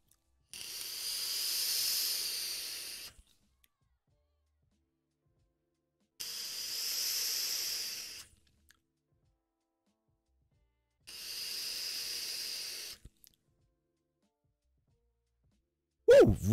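Three long, steady airy hisses from direct lung draws on a J-Well Opera mod kit vape, each lasting about two to three seconds with silent pauses between, close and fairly loud, then a brief exhale at the end.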